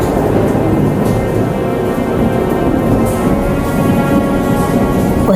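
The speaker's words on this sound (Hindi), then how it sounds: "शहर में बहुत तेज बारिश हो रही है।" Heavy rain pours steadily over a city, a dense, loud, unbroken hiss with low thunder rumbling underneath, and no voices.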